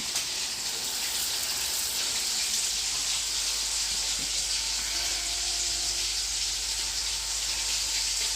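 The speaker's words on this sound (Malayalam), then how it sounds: "അപ്പൊ നമ്മുടെ ബിരിയാണിയുടെ അരി വെള്ളത്തിലിടാം" Biryani rice goes into water in a home kitchen, giving a soft, continuous watery hiss that stays even and fairly quiet from start to finish.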